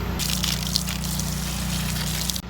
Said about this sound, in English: Now I know how to drain the hot water heater